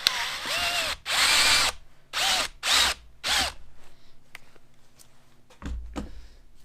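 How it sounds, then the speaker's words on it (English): A power drill whirs in several short bursts with pauses between, drilling off a copper rivet head on a vintage Massey Ferguson brake shoe held in a vise, up close, followed by a quieter final burst. "we'll just drill the copper head off gently"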